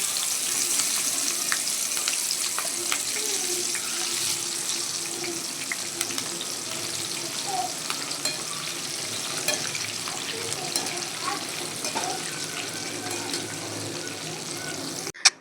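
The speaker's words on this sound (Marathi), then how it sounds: "कमी गॅसवर छान असे खरपूस भजी भाजून घेतलेले आहेत" Cut pieces of disco bhaji deep-frying in oil over a low gas flame, giving a steady close sizzle that carries on throughout, with a brief louder knock near the end.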